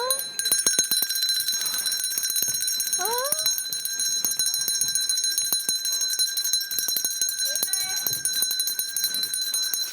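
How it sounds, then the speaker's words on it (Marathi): A doorbell rings on stage in a Marathi comedy skit, a continuous high electronic tone laced with rapid clicking that lasts throughout, loud and close, with a few brief vocal sounds. "दरवाजावरची बेल कोणी वाजवली?"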